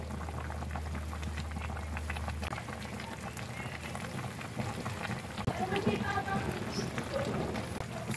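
Chicken tinola soup with bottle gourd bubbling in a pot, a steady close simmer with a low hum in the first few seconds and the boiling growing livelier toward the end, with no talking.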